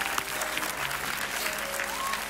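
Audience applause for two participants on stage at a talent show, continuous crowd clapping at moderate level throughout.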